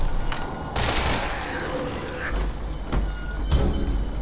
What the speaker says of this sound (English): Burner first, then machine gun.